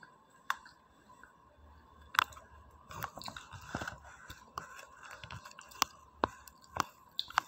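A person with a stomach ache and no appetite chews food slowly, with soft crunches and sharp clicks scattered irregularly across the quiet, close-up sound.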